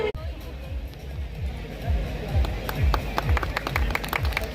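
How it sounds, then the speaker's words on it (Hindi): Audience clapping at a school farewell ceremony for Class 10 and 12 students, a steady wash of many hands applauding together, moderately loud and sustained throughout. "जोरदार तालियां यहाँ पर।"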